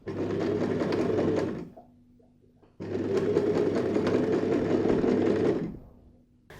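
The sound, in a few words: sewing machine stitching bias binding on handbag handle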